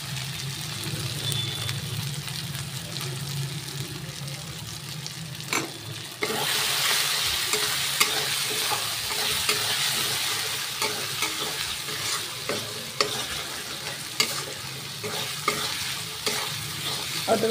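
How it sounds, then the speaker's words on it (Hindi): Ginger-garlic paste frying in oil with chopped onion in a pan while making a spiced potato and flat bean curry, a steady close sizzle broken by scraping stirs that grow louder midway, no talking. "अदरक लहसुन हमारा भून गया है"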